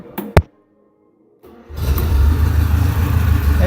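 A Volvo P1800 engine, its ignition timing just adjusted, cranks in a short burst, pauses, then catches and settles into a steady loud idle with no talk over it.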